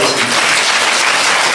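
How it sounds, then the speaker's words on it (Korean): A church congregation applauds warmly to bless a visiting member's parents during a Sunday worship service, a loud, dense, continuous round of clapping. "우리 박수로 좀 한번 축복하겠습니다"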